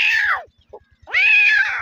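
A man who specializes in animal sound imitations mimics a cat meowing, producing two loud, drawn-out, nasal meows separated by a brief pause, with a faint short vocal sound in between and a soft rhythmic tapping underneath.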